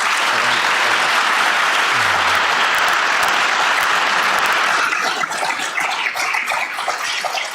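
An audience applauds panelists at a public health event on gun violence, a dense, loud wash of clapping that holds steady, then thins slightly toward the end.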